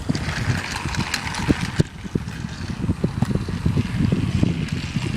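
A Trackmaster 2.0 motorized toy train engine runs along plastic track with a busy rattling whir and irregular clicks and clacks from the rails, close by and fairly loud, with no talking.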